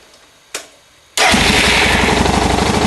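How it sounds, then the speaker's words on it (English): Suzuki DR650 motorcycle starting close by: a single short click, then after a brief pause the engine catches and settles into a loud, steady, throbbing idle. "So once again we'll start the bike."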